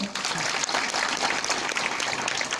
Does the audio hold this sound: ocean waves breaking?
no